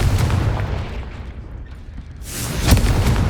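A Confringo blasting spell goes off in Hogwarts Legacy as a deep rumbling boom that fades, then a second sharp blast bursts in near the end, loud and without speech.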